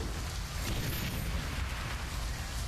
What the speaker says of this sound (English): The explosion is deafening.